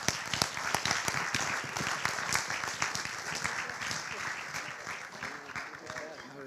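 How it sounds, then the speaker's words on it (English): Applause for the panelists at an INDL-6 conference session, a dense crowd clapping steadily with sharp individual claps, close and sustained for several seconds, with some voices mixed in. "One round of applause, please, for our panelists."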